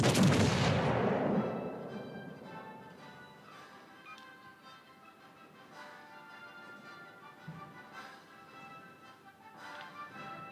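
A loud boom of 5.2-inch naval guns firing in a World of Warships: Legends sea battle, a heavy blast decaying over about two seconds, followed by quieter distant rumbles and scattered thuds.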